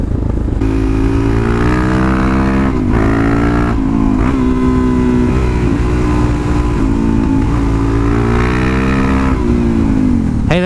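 A 2017 Suzuki DRZ400SM supermoto single-cylinder engine drones loudly while riding, pitch climbing and falling through several gear shifts and revs, steady and close throughout.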